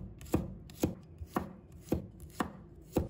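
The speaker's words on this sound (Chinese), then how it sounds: "把它切成片" Knife chopping garlic on a cutting board, six crisp evenly spaced strikes about half a second apart, close and clear with no talk.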